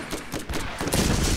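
Gunfire in the co-op shooter Borderlands: rapid bursts of shots in quick succession, loud and dense, ending in a sustained barrage.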